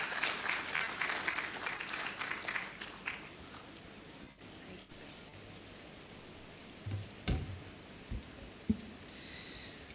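An audience at a clean-energy conference claps for a reverend, a crowd's applause for the first few seconds that thins into scattered claps, then low room murmur with occasional bumps and knocks.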